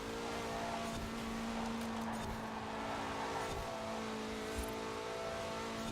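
A 2016 Mazda MX-5 drives in the racing game Forza Horizon 4. The engine holds a steady, sustained drone with slight shifts in pitch as it runs at speed, quiet and continuous.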